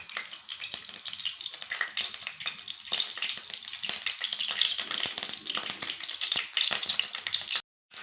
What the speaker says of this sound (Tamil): எண்ணெய் காஞ்சிச்சு கடுகு போட்டுக்கலாம்